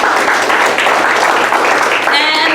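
Audience at a scholarship award dinner claps for board members, a brief steady burst of dense applause filling the hall, fairly loud and close.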